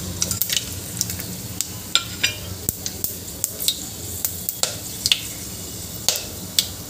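Whole spices and fenugreek seeds sizzle in a cumin-mustard tempering, with a soft steady fry hiss broken by scattered sharp pops and crackles.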